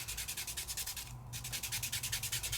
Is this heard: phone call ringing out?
no